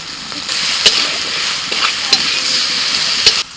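Spice masala with tomato fries in a pan with a loud, steady sizzle and hiss throughout, broken by a few sharp spatula taps and scrapes as it is stirred.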